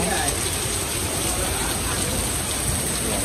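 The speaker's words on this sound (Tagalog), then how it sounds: "Actually sobrang ulan talaga dito sa Tiklan." Heavy rain pouring in Tiklan, a dense steady hiss that fills the whole stretch at close range, with people talking over it.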